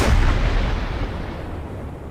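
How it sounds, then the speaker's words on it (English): A railgun firing at a tank in the game Space Engineers: a single heavy, booming blast up close that decays into a long, low rumbling tail, with no voices. "This railgun is a cold hard piercing gun"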